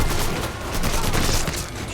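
Gunfire erupts in the video game Mafia III as a dense, continuous volley of loud, close shots lasting throughout, with no breaks.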